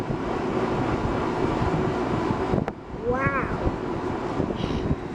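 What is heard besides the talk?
wind blowing around an HVAC unit outdoors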